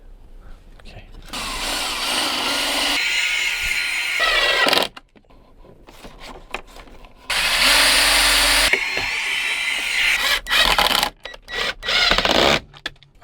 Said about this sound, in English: I'm going to be drilling a hole into our water tank to install this.